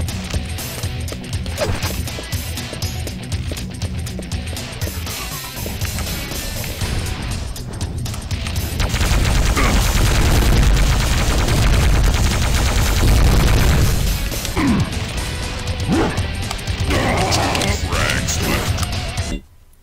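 Gunfire from N64 GoldenEye 007 runs on a Raspberry Pi 4 emulator, with dense bursts of game shots and crashes layered over busy game sound throughout, loud and continuous.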